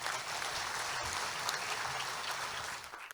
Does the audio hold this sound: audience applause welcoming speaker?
yes